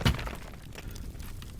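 A glass panel shatters in a building-destruction video game, a sharp crash at the start followed by a faint scattered trickle of falling debris, with no talking.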